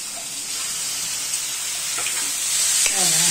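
Cleaned moth beans (matki) tipped into a hot pan, where a steady hiss of frying rises and builds slightly louder toward the end, close and without talking.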